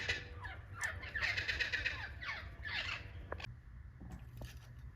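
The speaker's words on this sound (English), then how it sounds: "These dang old parrots." Parrots squawking indoors in a workshop, a few harsh overlapping screeches and chattering calls at moderate distance over steady low background hum, followed by a quieter stretch with a sharp click.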